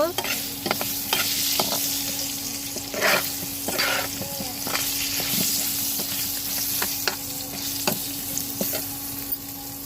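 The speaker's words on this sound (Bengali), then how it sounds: "কড়াইয়ে তেল নিয়ে নিয়েছি আর একটু হলুদ আর লবণ দিয়ে দিয়েছি আলুগুলো এতে ছেড়ে দেবো" Potatoes fry in hot oil with turmeric and salt in a wok, giving a steady, continuous sizzle broken by repeated scraping and stirring strokes, up close and with no talking.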